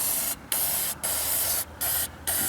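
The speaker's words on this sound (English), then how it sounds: "spraying this stuff" Four quick bursts of aerosol spray hiss loudly up close onto the clutch of a John Deere AR tractor, separated by brief pauses.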